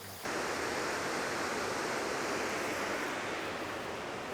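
Waterfalls in a woodland sound far off as a steady, even rush of falling water. The soft roar runs unbroken throughout, with no voices.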